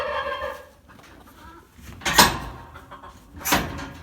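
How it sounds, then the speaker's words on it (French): A golden brick-red rooster kept in a snowy farmyard with pigeons gives a few clucking calls close by, with sharp bursts around the middle and end and quiet gaps between. "Le coq briquel doré."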